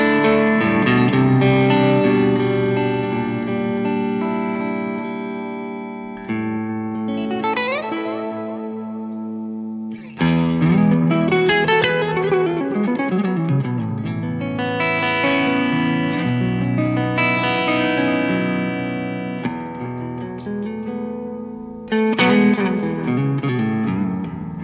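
Electric guitar played through a BOSS GT-1000 on its clean boutique amp model with delay and reverb, ringing chords and melodic runs trailing echoes and a spacious wash, loud and steady throughout with no talking.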